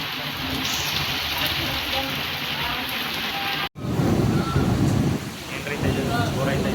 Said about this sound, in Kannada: ನೋಡಿ ಗೈಸ್, ಮಳೆ ಬತ್ತೈತೆ